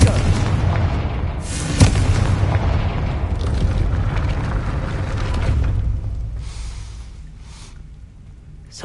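Fire spell blast in Hogwarts Legacy, a loud booming explosion with a sharp crack near the start and a rumbling roar that slowly fades, no talk over it.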